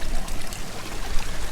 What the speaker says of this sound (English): Really coming out of the side of the mountain really good back in there.